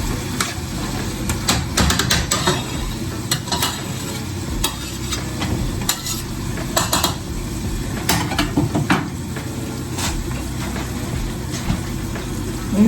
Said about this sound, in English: Yeah, the spinach cooking.